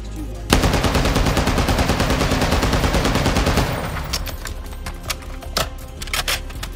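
Rapid automatic rifle fire from a TAQ-V 7.62 in the Modern Warfare 2 video game rattles loudly in a sustained burst, then gives way to a few scattered single shots and clicks.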